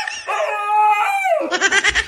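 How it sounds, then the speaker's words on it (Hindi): A dog barks and howls close by in a home, giving long drawn-out tonal yowls followed by a run of quick, choppy barks, loud and up front with no talking over it. "अरे कौन भौंक रहा है ये बदतमीज?"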